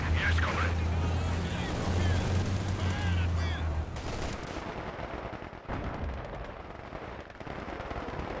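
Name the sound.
machine gun firing in a strategy video game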